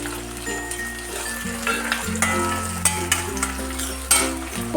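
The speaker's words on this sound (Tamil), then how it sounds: "நம்ம இப்போ கொஞ்சம் வெங்காயம் வதக்கி போட்டு போடலாம்." Chopped onions sizzle and fry in a hot pan while being stirred, a steady crackling sizzle with occasional light clinks of the spatula against the pan.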